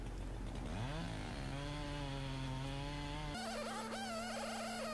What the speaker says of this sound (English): This is a white oak veneer tree that I'm cutting.